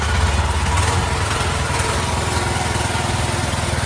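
A boat engine runs on the sea near a Chanthaburi seaside homestay, a loud, close, continuous droning rumble that holds steady for the whole stretch with no talking over it.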